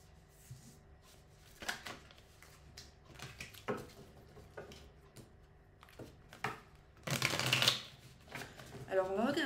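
A deck of oracle cards is shuffled by hand in a few bursts of quick riffling and flicking, with one louder, denser shuffle near the end, close up in a quiet room.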